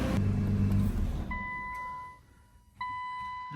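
A Nissan R35 GT-R engine revs hard against its rev limiter, a loud buzzing roar that cuts off, drops away to a quiet idle, then jumps back with a sharp whine.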